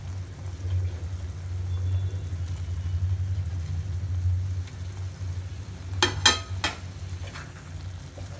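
Fried fish pieces being gently stirred into a simmering curry: a low, steady bubbling rumble throughout, with a few brief spoon clinks against the pot near the end.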